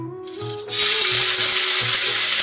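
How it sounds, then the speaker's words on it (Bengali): Long-sliced onions hit hot oil already used for frying, bursting into a loud, steady sizzle after a quieter start, with faint clinks of a utensil against the pan. "এবার এই সেম তেলের মধ্যে আমি পেঁয়াজ এখানে লম্বা করে কাটা রয়েছে সেই পেঁয়াজটা ভেজে নেব"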